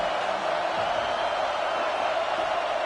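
Stadium crowd in a college football video game, a dense, steady roar of massed voices holding at a constant loud level throughout, with no distinct calls standing out.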